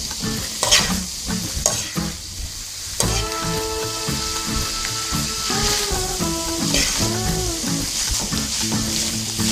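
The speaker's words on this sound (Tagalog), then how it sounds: "Hahaluin na po natin. Haluin lang pong mabuti mga mamamayan." Beef lumpia filling is stirred in a hot pan, with a loud, steady sizzle and a spatula scraping and knocking nearby. A tonal hum runs underneath, and no one speaks.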